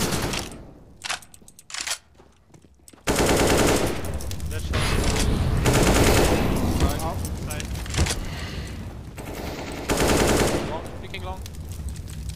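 Rapid automatic gunfire in CS:GO, crackling in sharp bursts after a quieter opening of scattered shots, with a player talking over the shooting.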